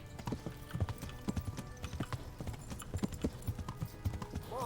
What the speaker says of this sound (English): We're going to need to slow down to a bit of a canter, let the horse regain some stamina.